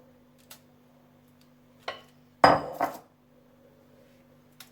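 A spatula working a coconut ball mixture in a bowl: a few sparse clinks and scrapes, then one louder double scrape near the middle, close up and otherwise quiet, with no talking.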